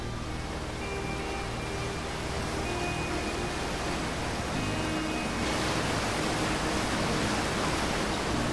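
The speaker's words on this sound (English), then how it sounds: "This is one clear waterfall." Steady, dense rushing water roars from a waterfall in the video game Outer Wilds, a constant broadband wash that swells slightly louder midway and continues without pause, no voices.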